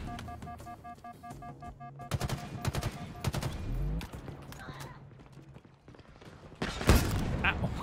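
Gunfire in Halo Infinite co-op from a rocket-launcher-wielding Brute: bursts of rapid shots and impacts through the first half, a thudding hit near the middle, then a louder blast late, mixed with game music and effects.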